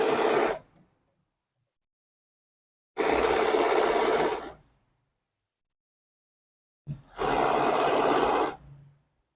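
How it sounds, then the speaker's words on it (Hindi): A sewing machine stitches the seams of a farshi shalwar in three steady, close bursts of whirring, each lasting a second or two, separated by silent pauses. "इन दोनों साइड्स को आपस में मिला के फिर हम ये वाली सिलाई लगाएंगे।"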